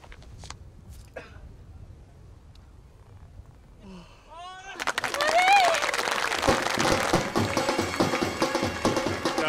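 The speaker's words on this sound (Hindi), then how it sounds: "तालियां सुनी?" Quiet room sounds and a few taps give way to a swell of applause from an audience, which builds and stays strong to the end while voices are heard.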